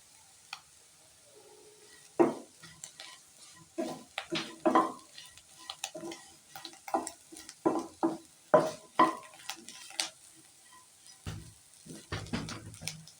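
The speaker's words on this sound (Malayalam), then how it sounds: "ഇനി കുറച്ച് മല്ലിയില കൂടി ചേർത്ത് നല്ലോണം മിക്സ് ആക്കി എടുക്കാം." Potato garlic fry is stirred with fresh coriander leaves in a pan over a faint sizzle, a close, uneven run of spatula scrapes and clinks against the pan.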